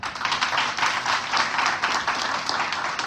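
An audience at an Indore seminar applauds in a steady, dense wash of clapping that holds at an even level throughout, with no voices cutting through.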